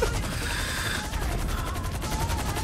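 Gunfire in the GTA video game crackles as a dense, continuous barrage of rapid shots, fairly loud and unbroken throughout.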